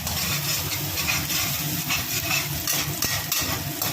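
Chopped onion with a pinch of salt frying in a pan, a dense continuous sizzle with rough scraping stirs running close and loud throughout, no voices.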